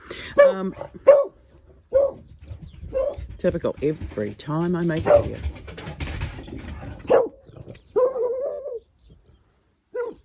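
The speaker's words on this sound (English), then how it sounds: "He's a vicious guard dog." An old dog barks repeatedly in short, sharp bursts close by, while a person talks over and between the barks.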